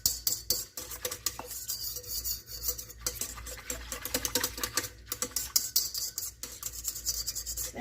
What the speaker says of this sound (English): Where's my baby whisk? We're going to give this a good mix in here.